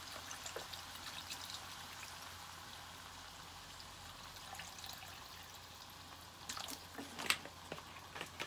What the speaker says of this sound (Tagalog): Ayan, lalagyan na natin ng tubig.